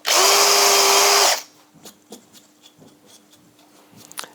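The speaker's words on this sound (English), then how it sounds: "We're literally just drilling that eye shape." A power drill bores an eye hole into a wooden automaton toy chick, one loud, steady whine lasting just over a second and then cutting off, followed by faint shop clicks and small knocks.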